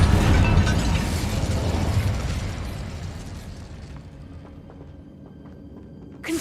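An Incendio fire spell cast in the Hogwarts Legacy video game, a loud roaring, crackling burst that fades gradually over several seconds into quiet game ambience.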